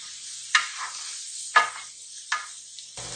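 Okra stirred in a pan with turmeric, three or four distinct scraping strokes about a second apart over a soft, faint sizzle, with no talking.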